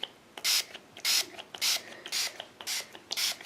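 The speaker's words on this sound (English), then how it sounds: "I'm going to spray some of this on. Reptile shedding aid." Spray bottle misting reptile shedding aid onto a snake, about six short hissing bursts in a quick, slightly uneven rhythm, close and fairly soft, with small handling clicks between sprays.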